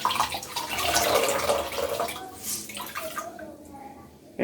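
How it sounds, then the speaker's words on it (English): A cleaning cloth is rinsed under a running tap, water splashing and streaming steadily at close range, then tapering off near the end. "Rinse it."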